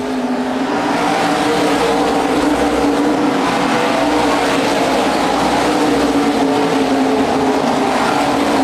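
Modified race cars circle a short oval track at speed, their engines droning loudly and continuously, with layered engine notes from the pack rising and falling as cars pass, and no voices.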